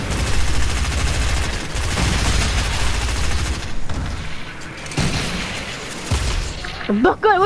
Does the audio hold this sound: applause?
no